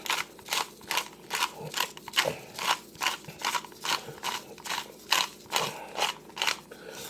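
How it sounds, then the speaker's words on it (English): A pepper mill grinds black pepper in a steady series of rhythmic, crunchy ratcheting bursts, close up and fairly quiet, repeating roughly twice per second throughout. "some little grind of some black pepper"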